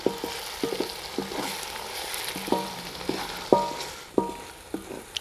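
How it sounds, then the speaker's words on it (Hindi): Garlic-ginger paste and lightly browned onions fry in a pan with a soft, steady sizzle, while a utensil stirs and scrapes the pan in repeated clinks. "लहसुन और अदरक को अच्छे तरीके से भून लिया हमने।"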